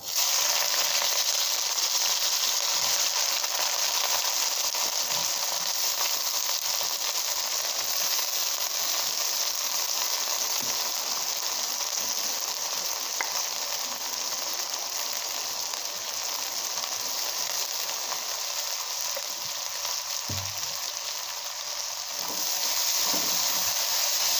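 Boiled chow mein noodles fry in hot oil, giving off a steady, close sizzle and hiss that runs unbroken throughout, with no voices.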